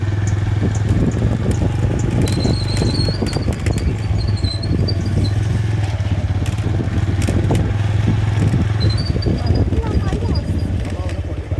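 Low, steady drone of a motorcycle engine while riding, with wind buffeting the microphone and voices talking over it.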